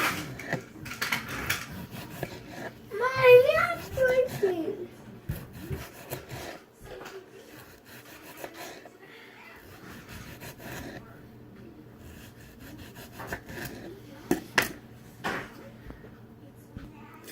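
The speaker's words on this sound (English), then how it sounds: "So when you're cutting the tomatoes, you want to do thin slices." Knife slicing tomatoes thinly on a wooden cutting board, soft scraping and tapping strokes in short irregular bursts, fairly close, with a person talking intermittently.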